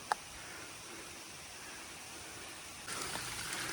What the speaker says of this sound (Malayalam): ഇതിലൊക്കെ വെള്ളം ഒഴുകുന്നുണ്ടേ